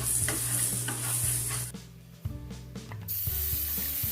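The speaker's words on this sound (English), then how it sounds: "Saute for a minute. Keep the flame low, don't burn the masala." Masala with red chilli and coriander powder sautéing over a low flame in a pan, a soft steady sizzle broken by scraping, clattering stirs of a utensil against the pan, close and without talk.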